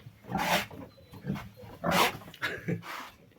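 An angry Vietnamese pot-bellied sow nursing piglets gives several loud, rough, bark-like grunts in bursts, close by, with short pauses between them.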